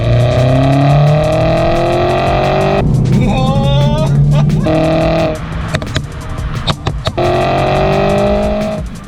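A loud, tuned engine on a 2013 Mini JCW Countryman revs hard several times, rising and falling in pitch with crackling pops between, close up.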